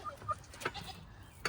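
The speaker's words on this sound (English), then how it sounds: "I feel like one of my chickens is protesting." A homestead chicken lets out short, sharp squawks and clucks in quick bursts, close and fairly faint against a quiet yard.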